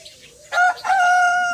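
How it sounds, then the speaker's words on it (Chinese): A large rooster crows nearby, a loud harmonic call that breaks briefly and then holds a long sustained final note, heard alone over quiet background. "这又来了一个大公鸡"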